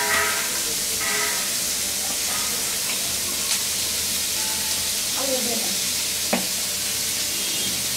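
Dried kachki fish frying in a pan with sliced green chilies and chopped potato, a steady loud sizzle and hiss throughout with occasional stirring scrapes.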